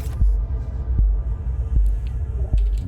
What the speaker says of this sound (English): I'm hearing a heartbeat.